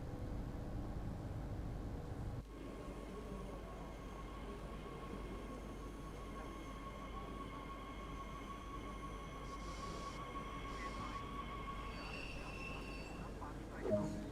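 A BR442 electric train in Train Sim World 2 rolls along as it slows to a halt, with a steady low rumble and hum, faint squeals and brake tones, and a brief clunk near the end.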